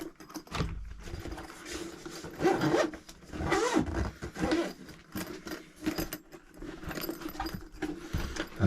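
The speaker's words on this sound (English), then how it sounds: "2 zips again." Zippers open on a set of nested fishing tackle bags, a medium bag with two zips among them, giving close, scratchy rasping pulls mixed with handling rustle and faint jingling, no talk over it.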